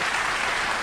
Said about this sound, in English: Michael, clap, please.